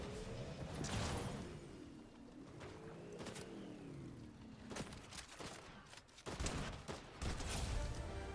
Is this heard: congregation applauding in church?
no